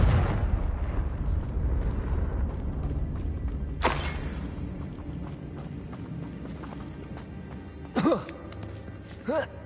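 Spell blasts from Bombarda and Confringo in Hogwarts Legacy burst out as a broad explosive whoosh near the four-second mark, with two short, sharp impacts near the end over a continuous game soundscape.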